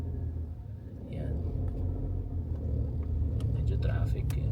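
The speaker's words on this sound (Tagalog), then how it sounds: "medyo traffic yan." Road traffic rumbling nearby, a low steady drone of passing cars with occasional higher hiss, under a person talking.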